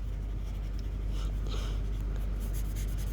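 Watercolor paint is brushed onto paper in soft, continuous scratchy strokes that repeat steadily and close up over a low background hum.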